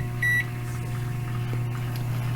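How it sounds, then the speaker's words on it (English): A microwave oven runs with a steady low electrical hum throughout, a short high beep near the start, and faint clicks and rustles over the drone. "Let's head over to the microwave"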